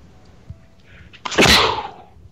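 A single loud sneeze bursts out after a brief quiet intake, sharp and close, trailing off within about a second over faint background noise.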